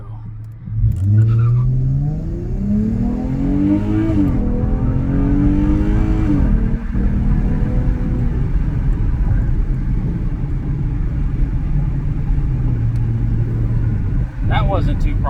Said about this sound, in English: As you heard, the tires spun, and it registered a 6 flat